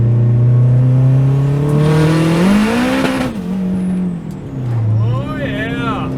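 A turbocharged Acura TSX pulls hard in third gear, its engine note climbing loudly and close before dipping and rising again at a shift, with a voice talking over it.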